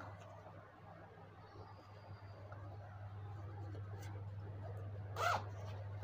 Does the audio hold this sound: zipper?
yes